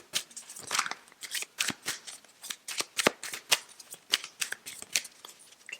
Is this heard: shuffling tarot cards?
yes